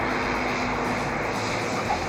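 A Kenmore scenic flight airplane cruising near Mount Rainier, its engine giving a steady, loud, unbroken drone heard from inside the cabin.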